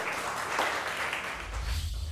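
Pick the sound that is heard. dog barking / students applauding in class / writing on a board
students applauding in class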